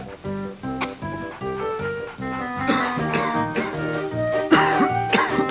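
Several voices cough and clear their throats one after another during a cough medicine commercial, a rhythmic series of close, forceful coughs.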